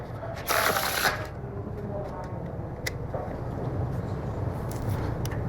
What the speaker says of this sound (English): You can all see how they're shuffled face up into face down for real?